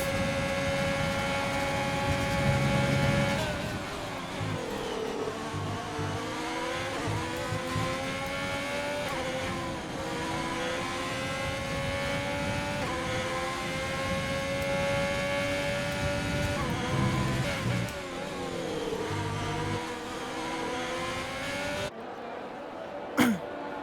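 Formula 1 race cars in the video game F1 2020 at the Spain round whine at high revs, pitch sweeping up and down through gear changes and corners, with a voice talking over the engine sound.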